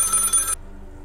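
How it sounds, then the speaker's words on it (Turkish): Telephone ringing in the horror video game Maid of Sker, a loud electronic bell ring that cuts off abruptly after half a second, leaving a faint low hum. "Telefon çalıyor."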